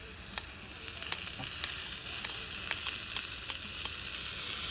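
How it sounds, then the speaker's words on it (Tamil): Onions sizzle steadily in a frying pan while tomatoes are added, with repeated light stirring scrapes over a moderate hiss, no talk. "அண்ட் இந்த டைமில் வந்து தக்காளி வந்து ஆட் பண்ணுறோம்."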